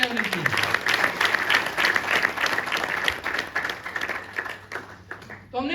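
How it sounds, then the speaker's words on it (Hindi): A crowd of standing attendees at a business seminar gives the host a burst of clapping, dense and lively at first and then thinning toward the end, with a voice faintly present. "इनके लिए जोरदार तालियां होनी चाहिए।"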